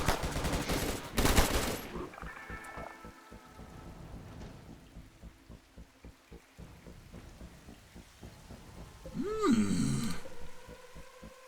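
Bursts of RimWorld colony gunfire and loud impacts in a storm-like wash of noise, with a rapid run of faint rhythmic shots through the middle and a louder swelling blast near the end.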